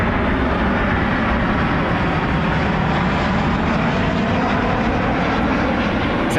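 An Alaska Airlines Boeing 737-900 jet at Cleveland Hopkins airport at night, its engines producing a steady broadband roar that stays loud and even throughout.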